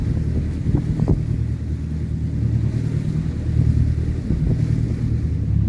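A motor boat cruising on the River Waveney on the Norfolk Broads, its engine throttled back to a steady low drone with some wind and water noise, no talk.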